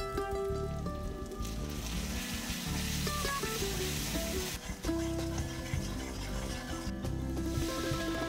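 Soaked cashew and melon seed paste frying in a hot wok, a steady close sizzle with crackling spatter throughout, with faint background music tones and no speech.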